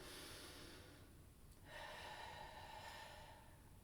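Close, quiet breathing during a slow neck-rotation routine: a soft inhale, then a sharp snort-like exhale that runs steadily for a couple of seconds, with no talking.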